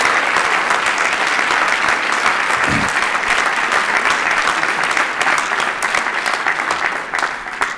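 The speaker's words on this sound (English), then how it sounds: "All of the council staff members, give yourselves a round of applause" Council staff members at the District of Columbia swearing-in ceremony applaud themselves, a full, steady round of clapping from a large room that holds at an even level throughout.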